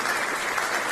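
An audience at a bill signing ceremony applauds, a dense, continuous wash of clapping at steady loudness with no voices standing out.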